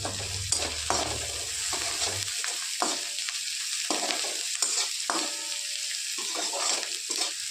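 Onion and plenty of coriander leaves sizzling in a pan for a wheat-flour roll recipe, a steady close hiss punctuated by repeated scraping strokes of a spatula, with a low hum fading out early on.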